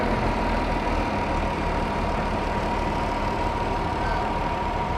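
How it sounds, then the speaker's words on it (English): An orange John Deere Model 700A industrial tractor at a Fourth of July parade in Alburgh, its engine idling with a steady, loud, close rumble that holds even throughout, with no voices over it. "you got a Model 700A Industrial John Deere, not green, this one here, it's the orange color"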